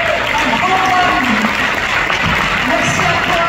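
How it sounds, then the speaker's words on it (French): A crowd at a Paris gathering claps steadily and loudly throughout, a continuous wash of applause with some scattered cheering mixed in. "je vous demande de l'applaudir"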